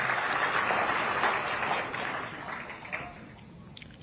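An audience applauds a performance at a launch event, with a thick wash of clapping for about two seconds that thins and fades, leaving a few scattered late claps.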